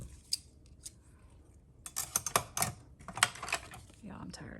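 Small scissors snip paper for a junk journal, a quiet isolated snip first, then a close burst of quick crisp cuts and rustles before a pause.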